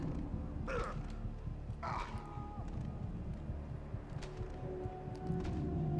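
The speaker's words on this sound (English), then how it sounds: "Got the big bird." Two loud caws from a big bird in the God of War 2 video game, spaced about a second apart over steady background game noise and music.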